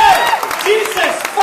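A live comedy crowd at the Bumbershoot festival claps for an audience member named Rashawn, a brief patter of applause heard under a man's loud, close talking.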